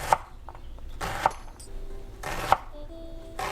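A knife chops through an onion on a cutting board: four sharp, close chopping strikes spaced about a second apart, each a crisp broadband thunk, with quiet kitchen clatter between them.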